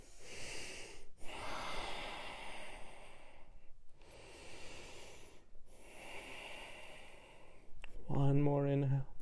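Slow, deep breaths during a full-body yoga flow, long audible inhales and exhales alternating at a calm pace, close and fairly quiet, with a voice starting to speak at the end.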